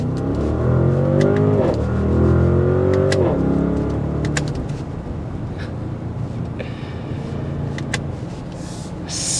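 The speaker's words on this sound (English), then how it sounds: "detuned Lamborghini Urus engine" A 2022 Audi RSQ8 with a detuned Lamborghini Urus engine accelerating hard, its loud, close roar climbing through rising sweeps of revs in the opening seconds before settling into a steady, fading drone.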